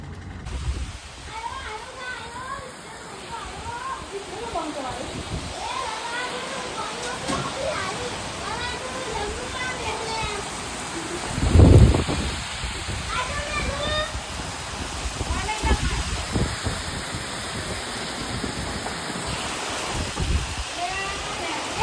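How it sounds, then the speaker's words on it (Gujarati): Steady rain falls throughout with a constant hiss, while voices and children's chatter come and go over it and one louder thump lands near the middle. "તો ગાઈસ વરસાદ આવી ગયો ફાઇનલી."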